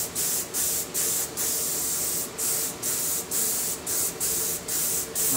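A nearly empty can of Duracoat spray paint coating a Ruger 10/22 rifle, hissing in close, uneven bursts that break up and sputter as the can runs low, with about a dozen short pulses and no talking.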